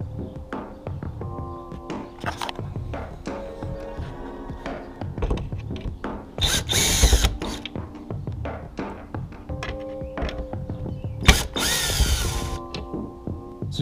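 A power drill removing grille screws from a 2020 Toyota Tacoma, with short loud motor whirs that start and stop among tapping and clunking, close by.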